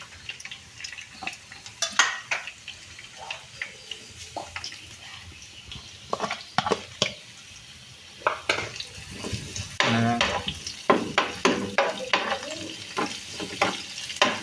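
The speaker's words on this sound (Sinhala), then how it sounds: "රන්වන් පාට වෙන බැද ගන්නවා." Spices frying in hot oil, with mustard seeds, garlic and curry leaves sizzling steadily close by while a spoon stirs and scrapes the pan in irregular clatters.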